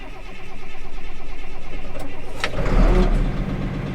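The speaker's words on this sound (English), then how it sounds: "we gotta pull this choke out and let it crank for a little bit so the oil can get moving before we start it" A car engine cranks with the choke pulled out, a loud, rapid, rhythmic churning for a couple of seconds, then catches and fires into a louder running roar close by.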